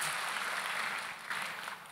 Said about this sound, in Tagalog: Mas malakas sa palakpak para sa ating mahal na ina